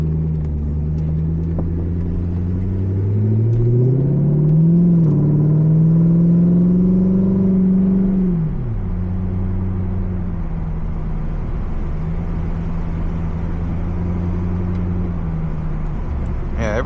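A Chevrolet C5 Corvette engine runs steadily during a drive, a loud low rumble that rises in pitch as it accelerates, then drops back and settles into a constant drone.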